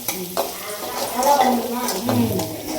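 Onions sizzling in a hot pan in a home kitchen, a close, steady frying hiss broken by stirring scrapes and knocks from a spoon, with faint voice-like tones in the background.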